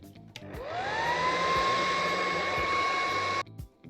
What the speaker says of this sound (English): I'll just dry my hair while you do that.